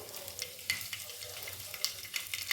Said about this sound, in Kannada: ಅದು ಚಟಪಟ ಅಂದಾಗ ಒಂದು ಒಣಮೆಣ್ಸಿನ್ಕಾಯಿ ಹಾಕ್ಕೊತಾ ಇದ್ದೀನಿ ಗುಂಟೂರು ಮೆಣಸಿನ್ಕಾಯಿದು